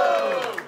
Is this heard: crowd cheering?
yes